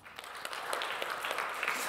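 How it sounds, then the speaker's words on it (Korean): Congregation at a Sunday church worship service claps together, producing a soft, steady wash of applause heard from a distance at low volume, with no talking over it. "우리 박수 한번 쳐볼까요?"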